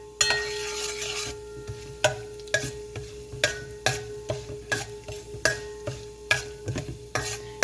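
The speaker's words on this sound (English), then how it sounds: "Then stir it up for a half a minute or so, till the urad dal becomes pinkish in color." Urad dal and cashews stir-fried in a pan for a spicy potato bhaji, a spoon scraping and tossing in a steady rhythm of sharp clinks over a soft sizzle, close and without talk.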